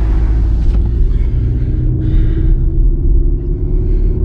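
Volkswagen Golf 7 1.6 TDI with Stage 1 software setting off on the road: a loud, steady low engine rumble and road drone inside the car, continuous with no talking.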